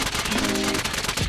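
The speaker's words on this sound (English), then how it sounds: "shoot my gun a little bit, reload it" Rapid automatic gunfire from a gun in the mobile game Call of Duty Mobile, a dense, loud, unbroken stream of shots that fills the whole moment with no voices.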